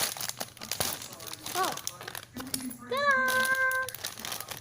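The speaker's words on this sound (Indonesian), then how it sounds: "packagingnya berisik amat, kayak kucing berantem" Plastic packaging around a Hello Kitty squishy set crinkles and rustles loudly while being opened, a scratchy irregular crackle up close, mixed with some high squeaky sounds and brief speech.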